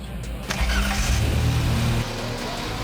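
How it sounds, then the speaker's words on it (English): A ChampCar race car engine cranks and catches, then settles into a loud, steady low rumble close by, with no talking over it. "I say start it and put it in gear."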